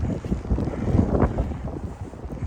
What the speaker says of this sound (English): Right now it's raining and windy.